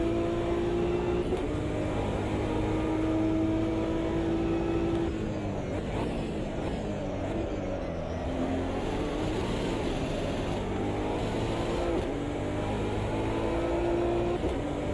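A BMW race car engine in the racing game Automobilista 2 drones loudly and continuously, its pitch climbing and dropping through gear changes and throttle lifts, with no talk over it.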